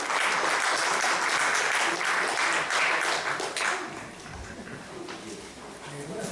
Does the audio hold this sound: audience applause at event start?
yes